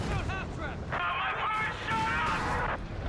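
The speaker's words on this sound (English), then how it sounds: "Heavy automatic fire there as the autocannons and the crouched machine guns let loose a torrent of heavy" Autocannons and crouched machine guns fire heavy automatic bursts in the World War II strategy game Company of Heroes 3, with rapid overlapping shots and battlefield din under a commentator's voice.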